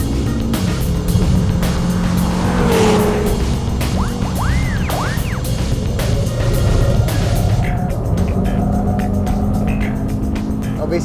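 Audi RS Q3 taking corners on a race track, engine note steady and loud throughout with brief rising whines as it turns, understeering with little tire squeal.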